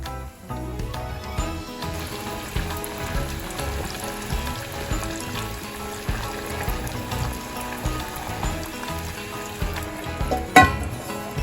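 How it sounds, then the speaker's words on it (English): Oil bubbles and sizzles steadily as pork chops deep-fry, a constant crackling hiss with occasional louder pops, close by. "before you even start doing some deep frying"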